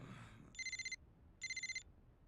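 Cell phone ringing in an episode of the anime Death Note: two short bursts of a trilling electronic ring, evenly spaced and fairly faint, with silence around them and no talk.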